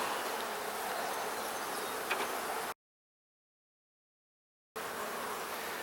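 Honeybees in a queenless hive buzzing in a dense, steady drone at close range during an inspection, broken by a two-second gap of silence before the buzzing resumes.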